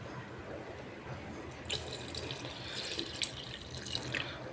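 Water pours into a pressure cooker for gravy, a continuous splashing flow that grows brighter and more turbulent after the first couple of seconds, close and steady throughout.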